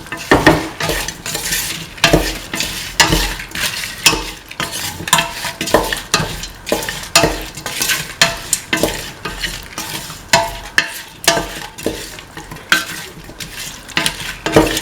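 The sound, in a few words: mixing mint chicken coconut milk stew in a pan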